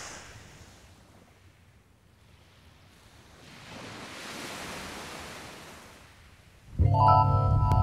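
Sea waves breaking over a shallow seabed along the shore, a soft broad surf wash that swells and fades, before a sudden louder burst of other sound at the end.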